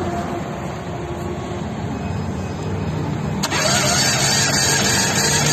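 A car engine cranks over continuously during a compression test, a loud, steady, even churning from close by with no pause, growing slightly louder toward the end.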